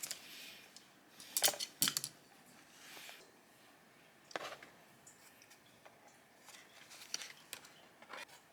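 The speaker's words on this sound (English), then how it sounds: "I have my regular paper scissors and my pinking shears, which will help with the fabrics from unraveling." Scissors or pinking shears cut fabric in a studio, making faint, close, sporadic snips and short crisp cutting strokes spread across the quiet.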